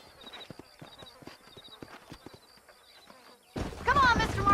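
Horses' hooves clip-clop at a steady trot in the Western game Red Dead Redemption, moderately loud and close, before a sudden burst of louder action noise takes over near the end.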